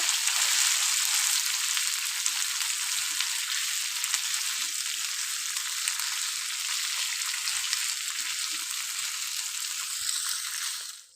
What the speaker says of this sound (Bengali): আলুটা নিয়েছিলাম সিঙ্গারার পুরো করার জন্য সেটা আমি দিয়ে দিচ্ছি দিয়ে আমি একটু নাড়াচাড়া করব